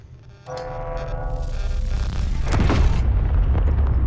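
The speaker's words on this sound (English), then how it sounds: "if you press 4, the railgun will fire 1 time" A railgun fires once in the video game Space Engineers, with a loud, sustained booming rumble that swells and holds for several seconds. A faint tonal hum sits beneath it.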